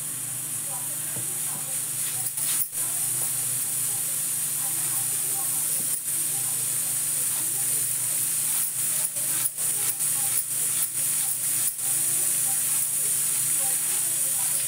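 A kitchen pressure cooker lets off a steady, loud hiss of escaping steam that holds for the whole stretch, broken by a few brief sputters, with a voice talking faintly in the background.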